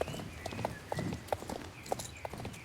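Horse hooves clip-clop at a steady walking rhythm in the online game Star Stable (SSO), close and moderately loud, with several evenly spaced hoof strikes and no talking.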